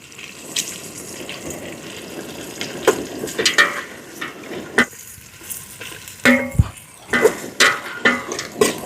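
Whole spices and onions frying in hot oil in a pot outdoors at a hillside campsite during rain, a steady sizzle broken by irregular clanks and scrapes of a stirring spoon, no talking.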